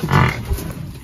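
A domestic water buffalo calls out on a village farm in Bandipur, Tanahun, Nepal, giving one low, drawn-out, fairly loud moo near the start that fades into a softer second call.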